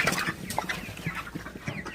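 Broiler chickens on a farm clucking in a busy overlapping chorus of short, close calls over a couple of seconds.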